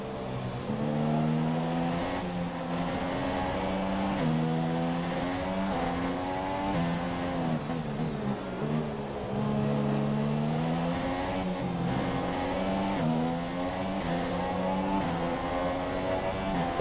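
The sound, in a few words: F1 2017 race car accelerating in video game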